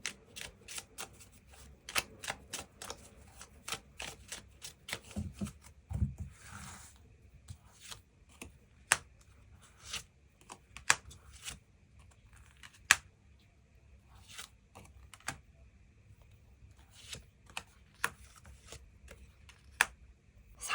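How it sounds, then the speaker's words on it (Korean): Tarot cards riffled and drawn by hand, a soft papery shuffle followed by scattered crisp flicks and taps as single cards are pulled, quiet and close with no talking. "추가 카드 뽑아보도록 하겠습니다"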